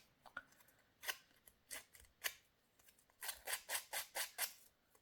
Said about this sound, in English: take your scissors